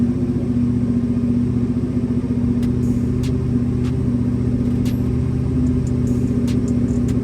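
A vehicle engine idles just after starting, following installation of a Jet Prime ABS delete module, with a steady, loud, close low rumble and a few faint clicks over the top.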